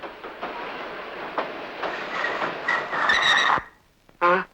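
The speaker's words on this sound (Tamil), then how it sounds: "ரயில் நிக்குது, வா இறங்கலாம்." A train rumbles and rattles with a clicking rhythm, then brakes squeal high as it slows, goes quiet, and lets out a short hiss.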